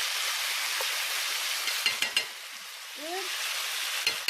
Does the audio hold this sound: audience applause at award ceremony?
no